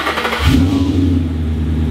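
A Subaru STI engine starts up: a brief whirring crank gives way to a firm rumble that settles into a steady, fairly loud idle hum, close by with no speech.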